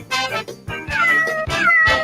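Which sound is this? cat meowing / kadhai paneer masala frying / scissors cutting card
cat meowing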